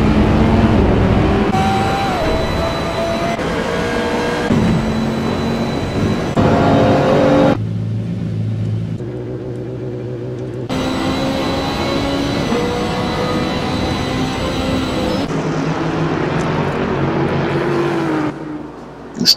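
Loud in-car racing engine whine from a racing video game at Spa, rising and falling through gear shifts, with sudden changes in pitch and a brief quieter drop midway.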